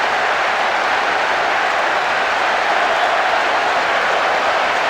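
Stadium crowd noise in the PES 6 football video game during a Chelsea versus Milan match, a steady loud roar of massed voices without breaks, filling the whole moment.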